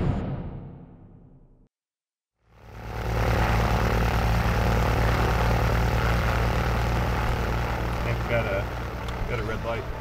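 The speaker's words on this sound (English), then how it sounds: "We're flying a six-cylinder Cessna Skylane" Steady propeller drone from a six-cylinder Cessna Skylane in flight fills the cabin after a brief dropout, loud and constant with a low throbbing hum; voices are heard over the engine noise.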